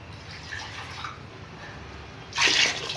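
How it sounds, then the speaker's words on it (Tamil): Measured water poured into a cooking pot for vegetable basmati biryani, a soft low splashing at first, then a louder, brighter rush of pouring near the end, close by with no talk. "தண்ணி அளந்து ஊற்றியாச்சு."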